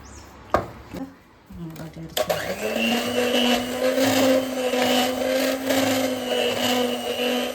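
An electric mixer starts after a few clicks and knocks, then whirs steadily and close as it beats millet cookie dough for home baking. Someone talks over the steady motor hum.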